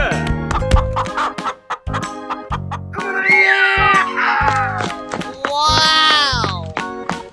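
A chicken in a 3D animal sliding video game gives loud, repeated clucks and squawks mixed with other animated animal cries and voices, all busy and close.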